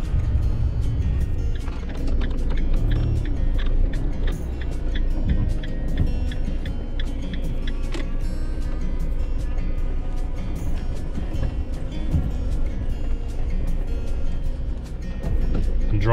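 A camper van driving along a rain-soaked road in Carmarthenshire, Wales, a steady low road rumble with rapid ticking of raindrops and wiper or splash sounds throughout, fairly loud and continuous.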